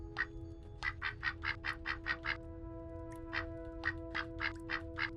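Cartoon duck in the game Duck Side of the Moon quacking in two quick runs of about eight evenly spaced, bright quacks each, close and clear over a steady electronic hum and low background rumble.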